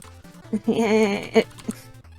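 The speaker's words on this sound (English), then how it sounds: "Hey, goats!" A bleating cry like a goat's rises and wavers for about a second, followed by a few shorter bleats, loud and close over a quiet background.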